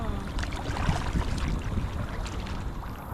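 GoPlus inflatable kayak being paddled on open water, with soft splashing and a low, rumbly wash of wind and water close to the microphone, continuous for a few seconds.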